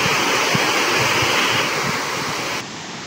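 Randha waterfall roaring in a dense, steady wash of falling water with wind buffeting the microphone, loud and unbroken before dropping slightly at the end, with no voices.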